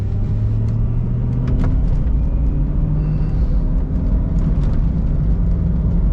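A car driving on a back road with S-curves, potholes and bad patches, heard from inside as a loud, steady engine and tyre rumble with small bumps and road-noise changes. No one speaks.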